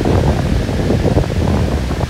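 Strong wind gusting across a big lake during a thunderstorm, a dense steady roar buffeting the microphone with no talk.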